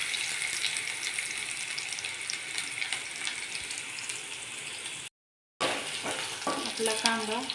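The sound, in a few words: onions sautéing in a pan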